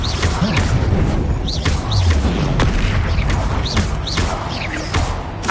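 Blasting spells in the wizarding game Hogwarts Legacy, rapid repeated booms and crashes from fiery explosions, loud and layered with whooshes and thuds in quick succession.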